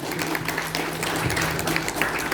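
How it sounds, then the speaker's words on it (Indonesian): Audience applause at a government talk in Ternate, North Maluku: dense, close crowd clapping at a strong, even level throughout, with a faint hum running underneath. "Itu tepuk tangan untuk bahagia."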